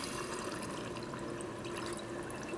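Warm water pouring steadily into a container with dry ice, a continuous close splashing and bubbling rush that fills the short moment with no speech.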